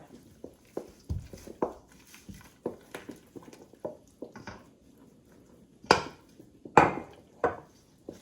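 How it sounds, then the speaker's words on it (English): A wooden spoon works flour into liquid in a mixing bowl for challah dough, making irregular hollow knocks and scrapes against the bowl, some louder clunks near the end. "with a wooden spoon, I begin to incorporate the flour into this liquid"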